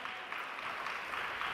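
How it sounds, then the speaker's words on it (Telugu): A church congregation claps together in praise during a fasting-day sermon, a brief, even, fairly faint wash of many hands. "చప్పట్లు కొట్టి దేవుని స్తుతిద్దాం"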